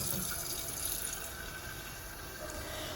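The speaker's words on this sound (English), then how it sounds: "we're going to add 3 quarts of water to the bottom of our pressure canner" Water runs steadily from a tap into the bottom of a pressure canner, a continuous close hiss of filling liquid with no talk.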